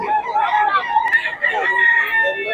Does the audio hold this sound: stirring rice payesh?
no